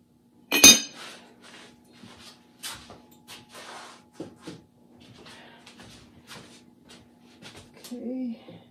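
A glazed ceramic jar lid gives one sharp, bright clink while a clear-glaze, underglaze-painted cone 04 kiln load is unpacked, followed by softer scattered ceramic taps and clunks as someone talks.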